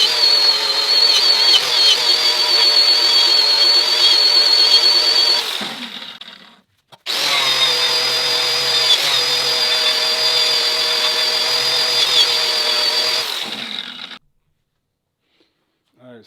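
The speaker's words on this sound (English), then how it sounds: "So I've already added the white compound to the felt flap disc. So now I'm just going to start buffing this in here." A felt flap disc on a grinder buffs metal with white compound, giving a steady high whirring whine in two long passes separated by a brief stop, then silence.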